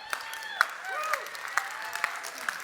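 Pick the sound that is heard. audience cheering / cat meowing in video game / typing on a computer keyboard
audience cheering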